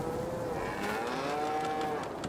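Cattle mooing in the farming video game Farming Simulator 22: a single drawn-out, wavering low moo, fairly faint and set against a soft ambient background with no talk.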